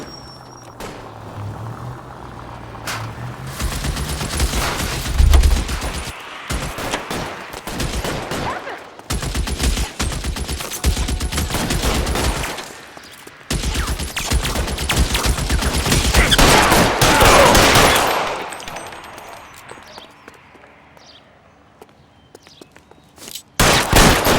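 Gunfire in the video game L.A. Noire: sustained volleys of shots and bursts of automatic fire, loud and dense for most of the stretch, tapering to sparse, quieter shots near the end.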